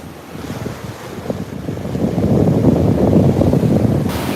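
Atlantic Ocean waves wash onto an east coast beach under strong wind buffeting the microphone, the surf building into a loud, continuous roar.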